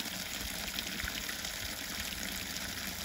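Water flows steadily at a trail water source on a mountain hike, a continuous close rushing and gushing with no pauses.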